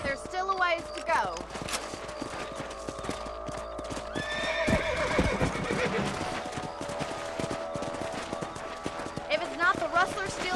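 In the Red Dead Redemption video game, a horse gallops with a continuous clip-clop of hooves, neighing loudly near the start and whinnying again later, while voices talk over the action.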